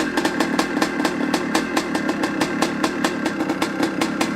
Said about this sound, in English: I'm going to do a cold start video here on this classic 77 Suzuki RM250